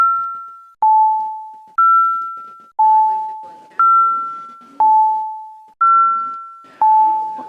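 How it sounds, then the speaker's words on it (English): Bells in a city council chamber chime in a repeating two-tone ding-dong pattern, a high note followed by a lower one. Each strike rings out loud and clear, then decays, about once a second with no voices over it. "Can you turn off the bells for me?"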